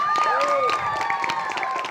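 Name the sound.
audience applause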